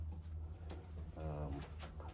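A pigeon coos softly while being handled and examined, a short throaty rolling call heard close by over low background hum.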